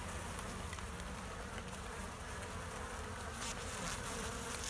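Honeybees buzz densely in an opened hive where comb has been started, a steady close swarm hum filling the whole stretch with no talk.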